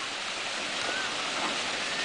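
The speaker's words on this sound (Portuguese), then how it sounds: "A roda d'água, você filmou?" A water wheel turns on a farm beside a cattle corral, giving a steady, loud rush and splash of flowing water that carries on without a break.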